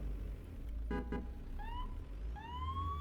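Emergency sirens from police and ambulance vehicles in Euro Truck Simulator, heard as short rising wails that come in two bursts over a constant low engine rumble, after a couple of brief honks.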